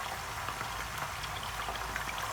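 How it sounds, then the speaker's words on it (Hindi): Kebabs sizzle steadily as they fry in oil in a pan, a continuous close crackling hiss with tiny pops throughout, no voices. "उनको भी इसी तरह से हमने फ्राई करना है"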